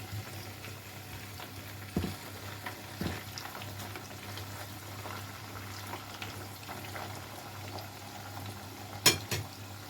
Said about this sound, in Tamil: இப்படி எல்லாத்தையும் நான் போட்டு பொரித்து எடுக்க போகிறேன்.